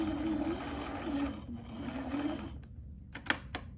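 A sewing machine stitches a fabric mask in a steady mechanical whir for about two and a half seconds, then stops, followed by a few sharp clicks and handling taps.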